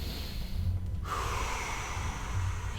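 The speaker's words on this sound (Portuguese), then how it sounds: "puxa o ar pelo nariz, inspira pelo nariz e solta o ar pela boca" A person breathes in deeply through the nose, a close, airy nasal inhale that sharpens and swells partway through, with no speech.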